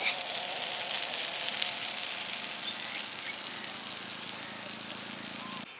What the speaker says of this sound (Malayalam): അത് മുഴുവൻ ഒന്ന് ഫ്രൈ ചെയ്തെടുക്കട്ടെ.